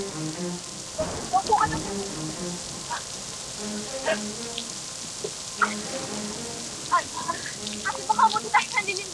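Steady rain falls outdoors in a rural area during a storm, a continuous patter with scattered drops, while people talk and call out nearby over it.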